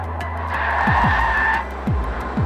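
A Volkswagen Golf GTI Clubsport on a race track lets out a loud, sustained tyre squeal over a revving engine, followed by quick upshifts and the engine note rising again close by.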